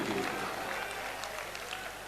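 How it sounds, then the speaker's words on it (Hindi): A crowd applauds at a night programme of a Sanatan Hindu unity foot march, steady, fairly faint and distant clapping that holds evenly for about two seconds. "उसके लिए जोरदार तालियों से अपना स्वयं का अभिनंदन जरूर कीजिए।"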